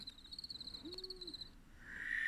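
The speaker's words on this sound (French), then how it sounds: "Cette chouette que l'on appelle effraie des clochers ou dame blanche" A male barn owl calls at night, a single drawn-out tone rising over a faint background of steady insect-like trilling, with a brighter rushing hiss building toward the end.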